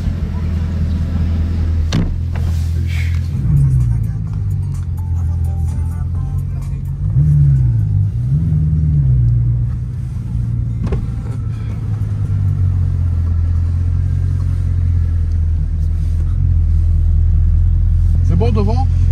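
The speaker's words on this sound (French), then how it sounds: "on part en Chiron avec le GMK Aberrant" A Bugatti Chiron's engine rumbles steadily and loud throughout, with swells where it revs up and pulls away, under people talking.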